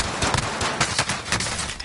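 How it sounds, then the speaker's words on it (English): Enemy gunfire in a video game, dense rapid automatic bursts that fill the whole moment, loud and close, with a voice faintly mixed underneath. "Enemy fire."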